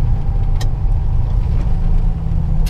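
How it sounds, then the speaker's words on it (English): A Class B box truck's engine drones steadily while driving, a continuous low rumble with road noise filling the cab and no talking. "I'm driving a box truck."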